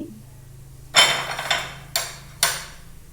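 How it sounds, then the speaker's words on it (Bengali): Crisp fried snacks made from carrot and semolina set down onto a plate, giving one loud clatter followed by three sharp, hard clinks spaced about half a second apart, close and clear over a quiet background. "এর আওয়াজটা শুনে আপনারা বুঝতে পাচ্ছেন যে এগুলো কতটা খাস্তা ও মুচমুচে মতো রেডি হয়েছে"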